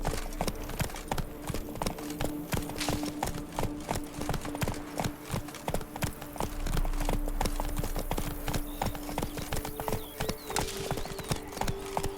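A horse galloping in The Witcher 3: Wild Hunt, Blood and Wine, with rapid, steady, close hoof clip-clops running throughout over a low ambient hum, and no talking.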